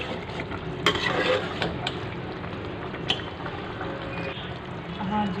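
Green chillies go into a pan of frying chicken and potato curry, giving a steady sizzle with stirring clatter and a few sharp utensil knocks close by.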